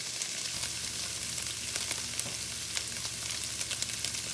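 Cabbage dropped into a hot frying pan for egg roll in a bowl, crackling and sizzling steadily with occasional sharper pops and stirring scrapes, close and even in level, with no talking.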